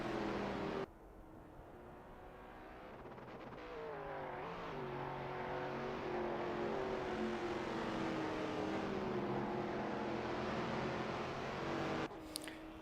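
Race car engines whine and rise in pitch in a racing video game at the Jerez circuit, a steady close drone of revving and gear shifts that holds for several seconds after a brief quieter start, with no speech.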